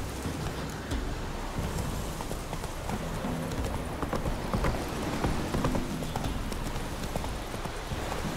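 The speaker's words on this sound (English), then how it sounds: "Not so fast, Roach" Hooves of a horse clip-clop in a fast gallop in The Witcher 3 video game, a dense continuous pounding over rain-like outdoor ambience, with no voices.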